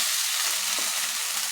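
Peanuts, cinnamon, cardamom and bay leaves frying in hot oil: a steady, close crackling sizzle that stays even and dense throughout, with no talk over it.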